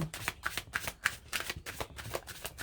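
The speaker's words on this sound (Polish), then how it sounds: "Muszę przytasować te karty, przepraszam." A deck of tarot cards is shuffled up close: quick, papery riffles and flicks repeat in an even rhythm, softly and without talk.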